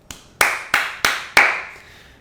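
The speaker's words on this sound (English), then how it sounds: "literally just gonna give a round of applause for that" Five sharp hand claps from one person in a short applause burst, close and crisp, evenly spaced with a slight ring after each.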